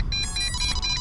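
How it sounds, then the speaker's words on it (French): An MJX Bugs 3 Mini drone beeps after losing battery power mid-flight, giving a steady, close electronic tone with stacked harmonics that runs through the whole second. "le bip bip qu'on entend, c'est parce que j'ai perdu la batterie en vol"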